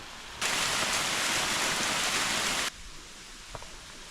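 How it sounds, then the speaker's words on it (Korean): A waterfall on a summer Dobongsan mountain trail rushes as a loud, dense hiss of falling water that starts abruptly, holds steady for about two seconds, then drops back to a quieter outdoor background. "멋진 폭포가 하나 있는데"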